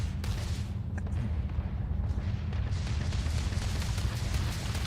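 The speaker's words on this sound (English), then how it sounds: "Are they shooting at me or at each other?" Gunfire rattles in a firefight in the video game Starfield as a dense, continuous, muffled barrage of rapid shots and booms, heard at a moderate distance with no pauses.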